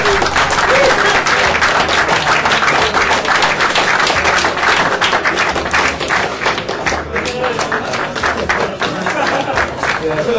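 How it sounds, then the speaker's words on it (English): A crowd at a poker tournament final day in Walsall breaks into loud, sustained applause, dense clapping from many hands that carries on for several seconds and eases slightly toward the end. "let's have a big round of applause for Peter O'Brien."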